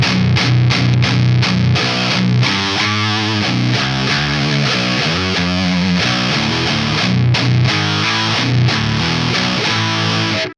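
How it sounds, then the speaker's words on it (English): A heavily distorted electric guitar, set to the second clipping mode for a modern metal tone, plays a run of chugging single notes and sustained lines, loud and saturated with sharp pauses between the choppy opening notes. "And this is already so much distortion"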